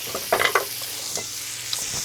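Tomatoes tossed into onions frying in a pan for a caprese-style frittata: a soft, steady sizzle with a few stirring scrapes and clatters, close and moderately quiet, no talking.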